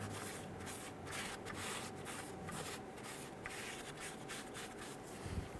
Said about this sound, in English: Using some brake parts cleaner and a clean rag. Clean the mating surface.